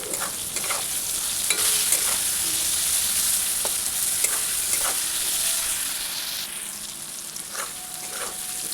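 Onions frying in a wok, a continuous sizzling hiss with repeated scraping and stirring of a spatula against the pan, close and steady.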